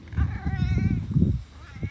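A house cat meows in a drawn-out, wavering call close by at home as a storm approaches, with a voice talking softly around it.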